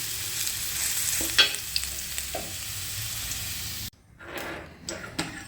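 Potatoes fry in oil in a wok, a steady loud sizzling hiss with a few sharp clinks; midway the hiss drops off briefly before patchy frying resumes.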